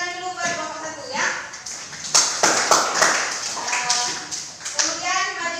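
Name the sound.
class clapping for group 1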